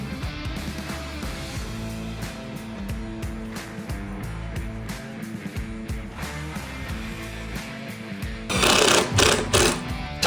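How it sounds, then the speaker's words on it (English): Pilot holes are drilled through the wooden side board of a Ford Model A luggage trunk into the baseboard, giving a steady motor whir with a rattling, busy texture. A louder, harsher burst comes near the end. "Al drilled 4 pilot holes through the side board and into the baseboard"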